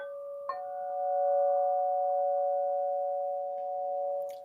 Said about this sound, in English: these are hand chimes